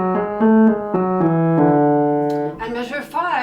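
A piano plays the opening measure of Bach's Invention No. 12, a run of distinct, evenly spaced notes moving through a short melodic line, closing with a brief burst of voice at the end.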